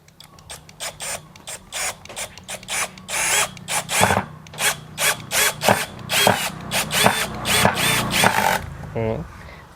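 A PUMA brushless cordless impact drill hammers in rapid rattling bursts as it drives a screw into wood without a pilot hole, loud and close, with brief pauses between runs.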